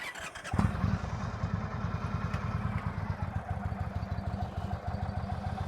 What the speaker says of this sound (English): Start the motorcycle, first gear, preload